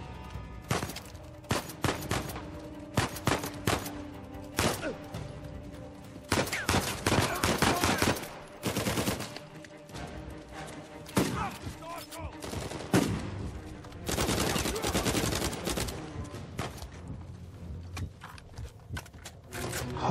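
Repeated shotgun blasts and bursts of gunfire in the jungle combat of the video game Uncharted 4, loud sharp bangs coming in irregular clusters over about twenty seconds with brief lulls between.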